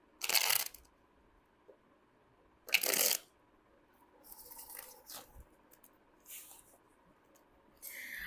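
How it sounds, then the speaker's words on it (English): Tarot cards are shuffled in several short, crisp bursts of riffling, with quieter handling and shuffling between them, close up in a quiet room. "One more shuffle, please."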